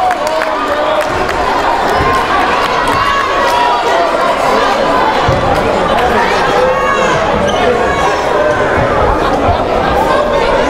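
A packed gym crowd at a high school rivalry basketball game fills the space with constant loud chatter, shouts and cheering, while balls bounce and sneakers squeak underneath.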